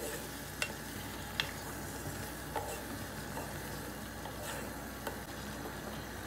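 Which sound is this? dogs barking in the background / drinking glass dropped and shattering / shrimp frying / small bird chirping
shrimp frying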